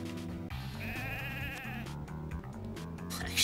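Sheep bleating in the video game Mother 3, a wavering game-sound bleat layered over busy background music and effects, clear and fairly loud throughout.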